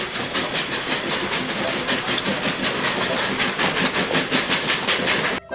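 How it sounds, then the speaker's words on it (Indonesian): Steam train sound effect, a rhythmic chuffing and clickety-clack with hissing that pulses steadily and close, cutting off abruptly at the end. "Wow, keluarlah kereta uap."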